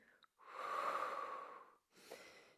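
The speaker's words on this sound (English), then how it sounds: "Deep breathing here." Deep breathing during a Pilates workout, heard close and fairly quiet: one long steady breath lasting over a second, a short pause, then a shorter second breath.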